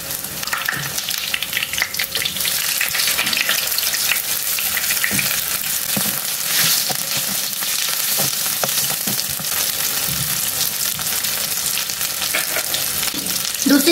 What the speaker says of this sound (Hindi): दूसरी साइड से भी इसे गोल्डन होने तक पका लेंगे।